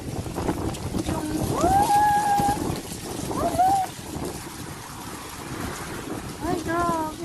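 Strong wind gusts batter the microphone in a loud, surging roar that rises and falls, with voices crying out and talking over the blustery rush.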